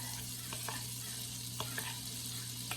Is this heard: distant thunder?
no